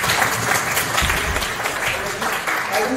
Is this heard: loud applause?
yes